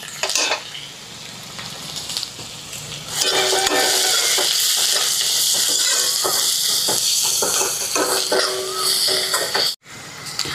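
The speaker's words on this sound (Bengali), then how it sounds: "পেঁয়াজের সাথে আমি আদা রসুনও ভালো করে ভাজা করে নিব একটু।" Onion with ginger and garlic fries in a pan. A softer sizzle swells into a loud, continuous crackle after a few seconds, with stirring scrapes and clanks, then a brief drop near the end.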